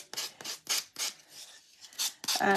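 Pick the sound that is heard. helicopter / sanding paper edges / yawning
sanding paper edges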